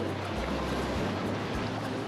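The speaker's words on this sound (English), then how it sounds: "The waves are coming quite big." Continuous roar of Atlantic surf on the Connemara coast in Galway, Ireland, with wind rushing over the microphone, big waves churning close by without a clear single break.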